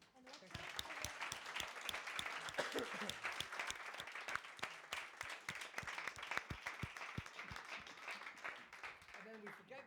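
An audience at a product meetup in Brussels claps together for about ten seconds, a dense steady patter of many hands with occasional louder individual claps standing out and some voices mixed in.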